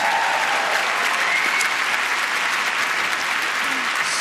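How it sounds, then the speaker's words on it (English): Sustained, steady applause from a large audience at the BAFTA film awards ceremony, dense even clapping filling the hall throughout without a break. "Please don't waste your sweet, generous applause on me."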